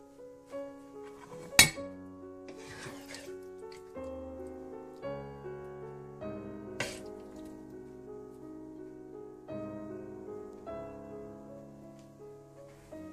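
Chicken shashlik is served onto a plate with soft scrapes and clinks of a serving utensil against the dish, one sharp clatter early on, over a faint background of music.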